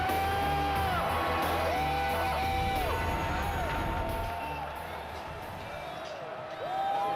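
A big stadium crowd at a college football game between Oklahoma and Florida State keeps up a loud, steady roar of cheering, with occasional whistles and shouts rising above it.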